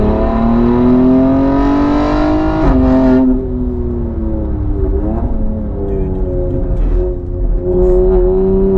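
A 710hp BMW X3 M SUV at full throttle on the Nürburgring, its engine note loud and close, climbing in pitch, dropping briefly at a shift around three seconds, then droning steadily at high revs.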